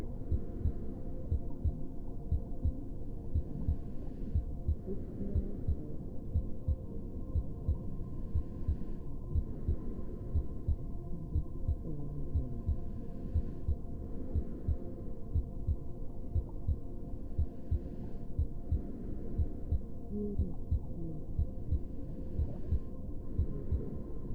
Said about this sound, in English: Feeling your heartbeat, connecting with its rhythm.